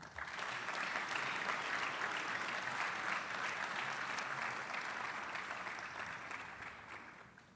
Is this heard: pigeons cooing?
no